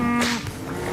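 Cattle moo on a farm where cows are being separated from their calves. One close, drawn-out low moo sounds over a busy herd background, with other animal noise around it.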